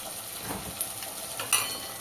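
Chopped tomatoes and salt frying for chana masala are stirred in a pan, giving a soft, fairly faint sizzle with a few light scraping strokes and small utensil clinks.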